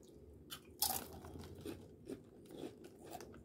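Great Value potato chips crunch between the teeth in a few sharp, close bites followed by softer chewing crackles, with no talking.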